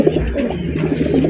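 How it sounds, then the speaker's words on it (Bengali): An Afsan grizzle racer pigeon coos close by, a low throaty warble repeating in soft pulses over a steady background hum. "এটা হচ্ছে আফসান গ্রিজেল রেসার কবুতর"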